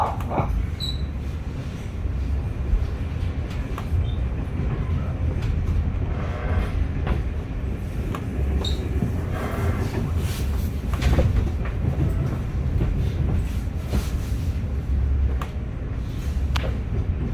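An Intercity train rolls toward Arnhem Centraal, heard from inside as a steady low rumble with rhythmic rail clicks and occasional rattles and squeaks, continuous and fairly loud throughout.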